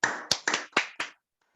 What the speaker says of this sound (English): Please, can you clap for yourselves, please?